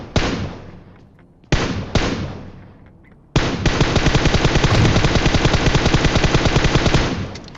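M4 rifle gunfire in the game PUBG Mobile: two single loud blasts with decaying tails, then a sustained rapid automatic burst lasting about four seconds, close and loud.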